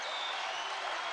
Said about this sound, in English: Listen to the crowd here at TSB Bank Arena.